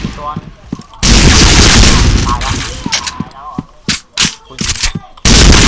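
Gunfire rings out in a clan-war video game shooter. Loud automatic bursts and single shots crack close by in an irregular rhythm, with excited voices shouting between the volleys.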